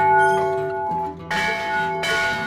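A McShane Bell Company church bell cast in 1898 rings out loud and close, its long humming tones sustaining throughout and a fresh bright strike landing partway through, then another near the end.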